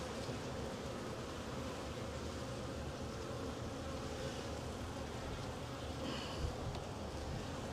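A honeybee colony hums steadily during a hive inspection, a dense, even buzz of many bees close around the open hive, with no voices.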